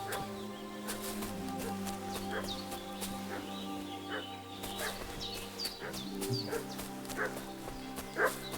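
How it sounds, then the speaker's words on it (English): A dog barking repeatedly in the medieval video game Kingdom Come Deliverance 2, sharp yaps recurring throughout at moderate distance over layered ambient game sound and a steady drone. "What's that dog making such a fuss about?"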